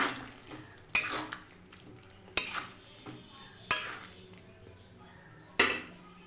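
A vegetarian curry with dried lentil nuggets is stirred in a pot, four or five sharp metal-spoon scrapes and clanks at irregular intervals over a quiet low sizzle, close and clear.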